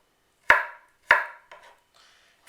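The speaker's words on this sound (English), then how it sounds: "I'm gonna start chopping this down into small pieces." A knife chops fresh ginger on a cutting board in a quiet kitchen: two sharp, clear chops about half a second apart, then a softer tap and a faint scrape, with another chop at the very end.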